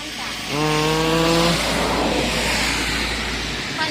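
A rice threshing machine's engine runs at a steady low idle throughout, while a voice talks over it.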